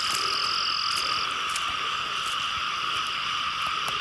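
Frogs calling at night in the rain, a dense continuous chorus of high trilling calls with a steady wash of rain behind it, loud and close throughout.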